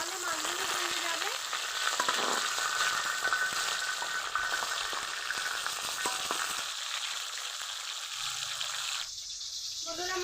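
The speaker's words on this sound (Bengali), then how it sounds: "বন্ধুরা, মাছগুলো মুচমুচে করে ভেজে নিয়েছি। এখন তেল থেকে তুলে নিব।" Bombay duck (loitta) fish frying crisp in hot oil, a steady close broadband sizzle that holds for about ten seconds, with occasional stirring clinks, then thins out near the end as the pieces are lifted from the oil.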